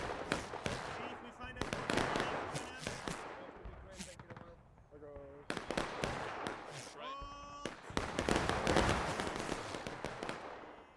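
Musket volleys in the War of Rights game crack as sharp shots, some single and some in clusters, scattered across a busy battlefield while someone talks between them.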